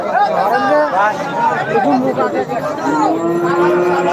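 Cattle moo repeatedly, close and loud, amid the chatter of a crowd at a cattle market, with voices talking throughout.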